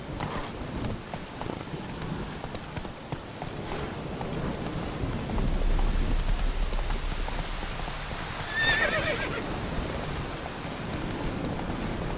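Horse in The Witcher 3 game world, hooves clip-clopping steadily throughout with a neigh around the middle, over a faint backdrop of rain and distant rumbling.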